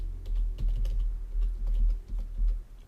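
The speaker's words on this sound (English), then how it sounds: "type a phone number." A phone number is typed on a computer keyboard in a quick, irregular run of close key clicks over a low hum, with no one speaking.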